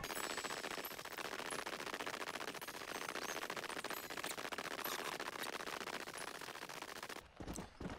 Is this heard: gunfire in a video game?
yes